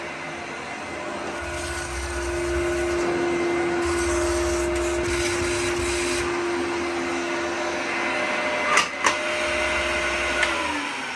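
Dyson DA001 vacuum cleaner running with the crevice tool at the end of the wand, working into corners: a steady loud motor whine with shifting suction tones and a few brief knocks near the end, with no talk.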